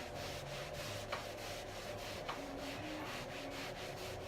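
A cloth rubs and wipes Dixie Belle Best Dang Black Wax off a furniture finish in faint, continuous scrubbing strokes, close up, with two sharper scuffs partway through and no voices.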